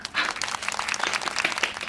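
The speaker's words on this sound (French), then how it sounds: "Je vais voir si je peux mettre des petits applaudissements." Light applause-style sound effect from a French vlog, a brief patter of clapping that stays fairly quiet and alone, with no voice over it.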